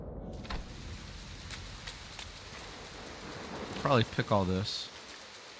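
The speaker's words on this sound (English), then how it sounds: "it's really raining out" Steady game rain hisses as a constant wash of drops in Disney Dreamlight Valley, evenly spread and moderately loud, with a brief spoken voice cutting in near the end.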